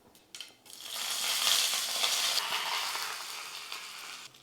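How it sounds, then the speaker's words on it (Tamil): Mustard seeds spluttering while tempering in hot oil, a steady crackling hiss that swells up after a few soft knocks and runs for several seconds before fading, with no talking. "கடுகு வந்து வெளியே தான் போயிடுது பொறிஞ்சு மேலே வருது"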